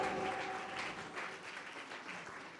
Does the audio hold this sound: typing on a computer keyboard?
no